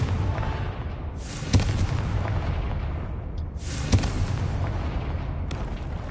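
Confringo fire spell explosions in the Hogwarts Legacy video game sound as two loud booming blasts, each followed by a rushing, crackling decay over a low rumbling background.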